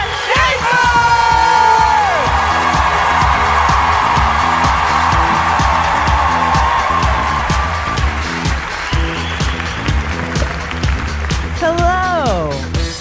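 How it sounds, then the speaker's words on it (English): Live comedy-show audience clapping and cheering as a comedian takes the stage, a dense, steady wash of applause and whoops over loud, rhythmic walk-on music, with a few voices calling out near the end. "So why don't you guys start clapping, get hands for Miss Sarah Schaefer!"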